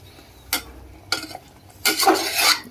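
A spoon scrapes and stirs a sizzling eggplant curry in a pressure cooker, three separate bursts of metallic scraping and frying hiss with short quiet gaps between them.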